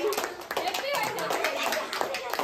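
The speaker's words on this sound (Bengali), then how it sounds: "দারুন দারুন দারুন জোরে হাততালি।" Guests clap loudly together at a girl's birthday celebration at home, a dense patter of applause mixed with children's voices and chatter.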